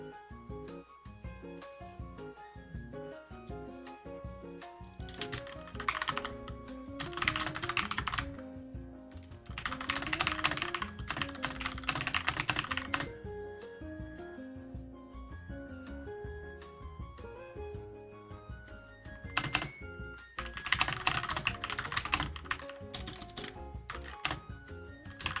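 Computer keyboard typing runs through the stretch with steady clicks, partly under louder music with sustained tones and bursts, while no one speaks.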